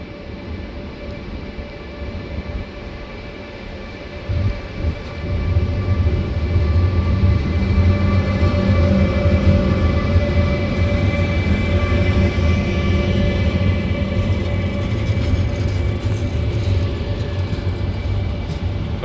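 A train pulls out of Lisbon Oriente station with a loud, steady low rumble and droning hum that swells after a few seconds and holds evenly, with no voices over it.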